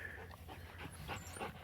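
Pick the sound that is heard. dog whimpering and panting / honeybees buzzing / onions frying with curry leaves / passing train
dog whimpering and panting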